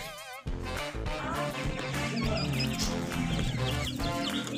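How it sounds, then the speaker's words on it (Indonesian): Bantam chicks cluck and peep continuously, close and fairly loud, with overlapping chirpy calls and bird chatter at a bird market. "Nah, ini anak ayam kate."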